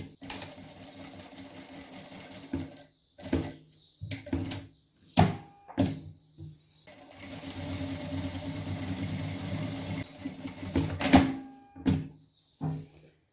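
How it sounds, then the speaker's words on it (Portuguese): A sewing machine stitches a trapeze dress seam in two sustained whirring runs, separated and followed by short bursts, clicks and handling knocks, close and clear with no talking. "Vou passar a minha costura exatamente em cima dessa daqui"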